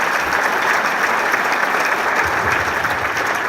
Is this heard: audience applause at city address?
yes